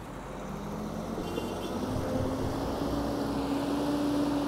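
A tandem-axle dump truck engine idling and pulling away on a dusty lot, a steady, loud diesel rumble that swells slightly as trucks drive off.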